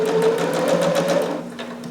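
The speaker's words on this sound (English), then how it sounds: "We're just going to do that same 5/8 inch stitch that we have been using. Stitch, then back stitch, and then keep going." A home sewing machine runs steadily, stitching fabric with a 5/8 inch seam for a McCall's 7402 harem jumpsuit, a loud continuous motor whir with a needle hum close by and no talking.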